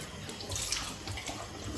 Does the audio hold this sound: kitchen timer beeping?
no